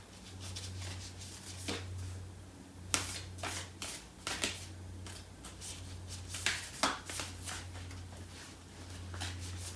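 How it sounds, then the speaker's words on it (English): Tarot cards are handled and shuffled close up while one card is drawn from the deck, a run of soft, quiet riffling and slapping bursts over a low steady background hum. "I'm going to pull out a card for this other person."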